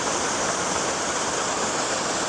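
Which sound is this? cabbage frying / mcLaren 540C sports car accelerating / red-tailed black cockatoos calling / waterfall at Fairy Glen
waterfall at Fairy Glen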